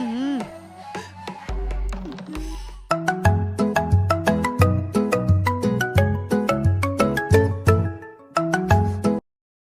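A bright, melodic phone ringtone plays in repeated rising note patterns, loud and close, running several seconds before cutting off.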